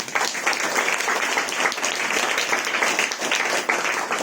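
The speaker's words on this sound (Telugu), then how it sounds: "ఒకసారి చప్పట్లు కొడతారా?" A church congregation claps together in steady, dense applause, loud and continuous from start to finish with no talking over it.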